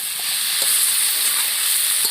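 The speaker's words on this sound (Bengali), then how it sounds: "ভালো করে আলু আর চিকেনটাকে কষিয়ে নেব।" Potatoes and chicken frying with turmeric and chili powder in a pan, a dense, steady sizzle with faint stirring scrapes, close and continuous with no talking.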